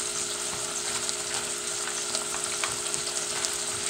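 Pork taco filling frying in a pan gives a soft, even sizzling hiss with light scattered crackles as it is stirred, fairly quiet and steady with no voices.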